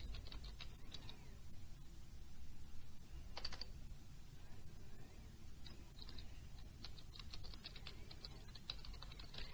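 Someone types a rule name on a computer keyboard while setting up a ledger allocation rule in accounting software: a steady run of light, fairly close key clicks in uneven bursts, alone with no voice.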